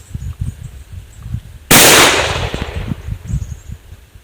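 A 1952 US Air Force .410 shotshell with an aluminium case fires in a single sharp, loud bang that rings out and slowly decays, after quieter low thumps and handling noise.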